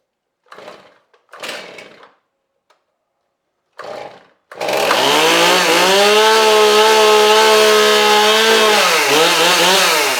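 A STIHL MS271 chainsaw with a newly replaced carburetor gets a few short pulls of the starter cord. It then fires and runs loud and close in a steady high-pitched roar, with a brief dip in revs near the end.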